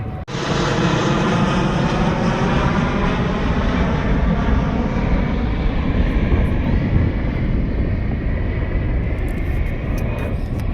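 Loud, sustained roar of an airplane flying overhead, a steady engine drone that fills the whole stretch.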